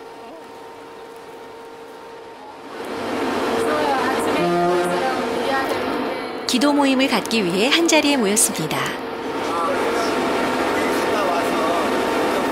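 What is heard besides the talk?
ship engine on a boat in Africa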